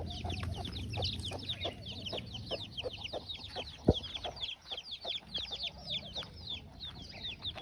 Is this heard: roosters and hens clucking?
yes